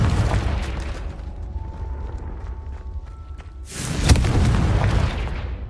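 A Confringo fire spell bursts in Hogwarts Legacy, its sudden loud blast landing partway through and washing into a broad roaring rumble that holds for a couple of seconds over the game's quieter ambient hum.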